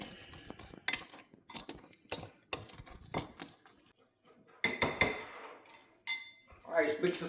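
Ground ginger and cloves for pumpkin pie get stirred in a bowl, with repeated close clinks and scraping of a utensil against the dish in uneven bursts and brief pauses between.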